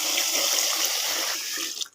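Water pours steadily from a can into a pot during washing, a continuous close splashing rush that thins and trails off at the end.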